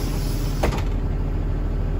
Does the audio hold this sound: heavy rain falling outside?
no